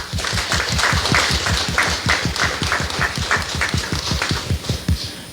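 Church congregation at a Q'eqchi' Catholic Mass claps steadily, a moderately loud, evenly paced stretch of applause with no talking over it.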